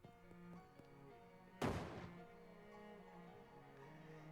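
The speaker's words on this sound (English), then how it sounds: "You've seen some disappointing explosions in your life, but that one really failed to even make a dent in the cake." Underwhelming stick of dynamite set off against a rock geode in the game Shadows Over Loathing: a single short, muffled boom that decays within about half a second, over quiet background game music.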